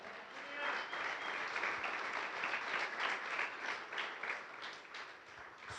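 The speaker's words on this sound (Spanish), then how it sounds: "Denle un aplauso al Señor" A church congregation applauds in a dense, continuous wash of many hands clapping, steady and fairly distant, holding an even level throughout without speech over it.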